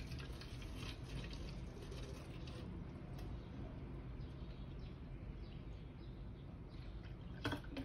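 Water poured into a one-liter plastic bottle, a steady close trickle of liquid running on for several seconds with small drips and no talking.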